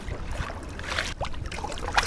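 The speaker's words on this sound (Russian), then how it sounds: "Тишина, плеск волн, полное ощущение полета над волнами." Waves splash softly against the hull of a sailing yacht under sail with its engine off on the sea off Turkey, faint gurgling and lapping water with light wind noise.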